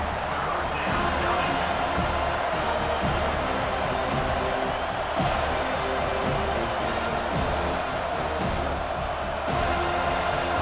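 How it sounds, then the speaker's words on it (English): Stadium crowd noise swells steadily in a college football video game (North Carolina vs. Florida State) on third down, a constant loud roar with faint bursts of cheering throughout. "Decibels rising as the crowd gets behind this defense on 3rd down"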